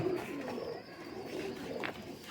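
Khatang pigeons coo softly and repeatedly, with low throaty murmurs running throughout and a brief higher chirp near the end.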